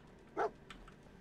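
A single short dog bark from a companion dog in Fallout 4, one brief burst at moderate distance against a quiet game ambience, followed by a fainter trailing yip.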